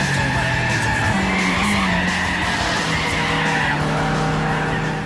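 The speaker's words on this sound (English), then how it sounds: "I turned off all the auto steer options and turned my car traction right down, and I was sliding around to my heart's content" Car tyres skid and squeal continuously over a steady engine drone in the Gran Turismo racing video game, with traction control turned down so the car slides through the corners.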